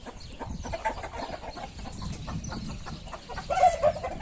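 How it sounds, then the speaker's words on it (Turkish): A white rooster clucks and murmurs close by amid barnyard background noise, with a louder burst of clucking near the end. "Ak horozu da göstereyim size."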